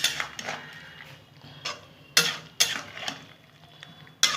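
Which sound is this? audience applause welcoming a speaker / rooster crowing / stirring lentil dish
stirring lentil dish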